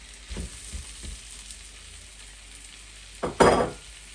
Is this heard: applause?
no